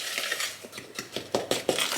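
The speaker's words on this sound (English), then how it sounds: "You get out your wooden spoon and you give it a mix of your dry ingredients." A wooden spoon stirs dry gluten-free muffin ingredients in a bowl, giving soft scraping swishes and a few sharper knocks against the bowl near the end, close and fairly quiet, with no talking.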